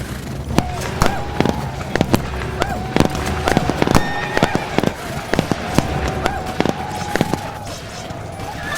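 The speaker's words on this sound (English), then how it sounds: "The gunfire stopped." Repeated sharp cracks and pops of gunfire in irregular bursts, mixed with other background sounds and shouting.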